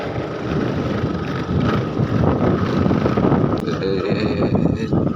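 Strong outdoor wind roars continuously, buffeting the microphone with broad, rushing noise that swells in gusts.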